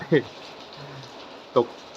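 Rain falling outdoors at a house front garden in Surin city, Thailand, a steady soft hiss running throughout, broken by two brief louder clicks or taps.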